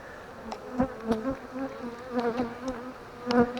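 Honeybee swarm buzzing close by, a steady droning hum with individual bees swelling and fading in loudness.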